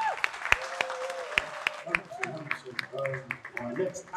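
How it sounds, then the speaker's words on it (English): Scattered claps and applause from an audience at a college year-one music performance festival, with sharp separate hand claps rising under nearby talking voices. "I think that they deserve another round of applause"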